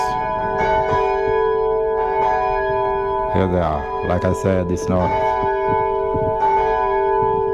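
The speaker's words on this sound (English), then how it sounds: "So this is how the bells go, guys." The Swan Bells church bells in Perth, Australia ring out with a sustained, resonant metallic hum and overlapping strikes while someone talks over them close by.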